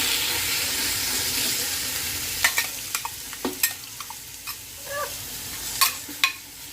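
Turkey and shrimp sizzle in a hot pan with a loud, constant frying hiss, broken later by clicks and knocks of stirring and handling close by.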